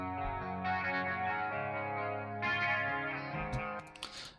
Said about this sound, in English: So I do have the chorus enabled.